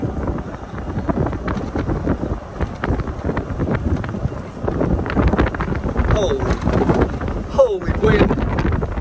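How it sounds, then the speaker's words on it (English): Strong wind gusts across a mountain golf course at Big Bear, buffeting the microphone in a continuous, loud, rumbling roar, with voices partly buried beneath it. "Holy wind."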